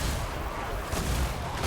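A bomb thrown during a Total War: Warhammer II battle between Vampire Counts and Vampire Coast armies goes off in a quick series of booming, gunfire-like blasts within dense, continuous battlefield noise.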